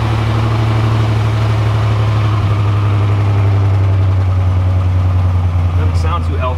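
An old Buick from a junkyard, still smelling of stale fuel, idles roughly and unevenly close up, a loud, constant low rumble that sounds unhealthy and near stalling.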